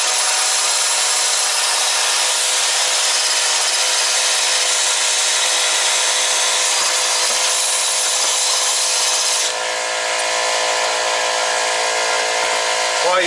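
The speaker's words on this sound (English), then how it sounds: "the wire wheel, the cone adapter, you can get the rust off." A wire wheel spinning on a cone adapter scours rust, giving off a loud, continuous abrasive whirring hiss that stays steady and close before shifting slightly in tone near the end.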